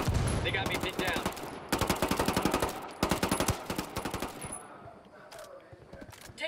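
Bursts of automatic gunfire from the Ghost Recon Wildlands video game, rapid rattling volleys in several waves over a few seconds, then tapering off into quieter rumble.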